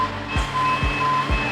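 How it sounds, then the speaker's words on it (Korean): Warning alarm on a bucket truck, sounding when the boom is raised with the outriggers not deployed: three evenly spaced low pulsing beeps over a steady high electronic tone and an idling engine hum. "1단 붐 상승을 했더니 알람이 울리고 작동을 안 합니다."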